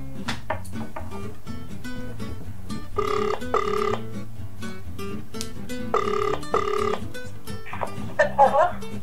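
An outgoing call's telephone ringback tone, made during a prank call to a phone sex line. It plays as two pairs of steady electronic pulses over continuous background sound.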